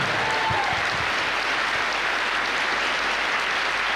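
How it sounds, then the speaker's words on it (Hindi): Church congregation clapping steadily in a worship service, a dense continuous patter of many hands at moderate volume filling the room, with no voices over it. "आप जीत चुके, ताली बजाइए यीशु के नाम से।"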